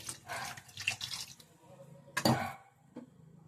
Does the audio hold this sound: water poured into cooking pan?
yes